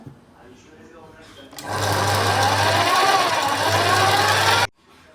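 A sewing machine stitches cloth for a top remade from an old frock, running steadily and loudly for about three seconds with a low motor hum, after quieter handling sounds and faint talk.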